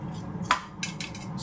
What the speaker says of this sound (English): I've got a great stainless steel garlic crusher, courtesy of my wife. You squeeze it,